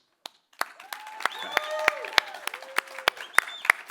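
Conference audience applauds with scattered sharp claps and rising cheers and whistle-like voices, growing louder over a few seconds.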